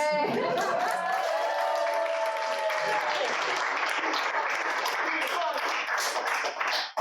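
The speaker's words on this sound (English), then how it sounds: "A big applause while I'm fixing this." Steady applause from a theatre audience at an improv comedy show fills the whole stretch, with a ringing tone and some voices mixed in underneath.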